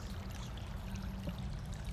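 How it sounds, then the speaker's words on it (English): Water dribbles and trickles steadily for a couple of seconds, a faint, continuous watery pour played as a sound effect during a tabletop Dungeons & Dragons session, with no talking over it. "Water dribbles."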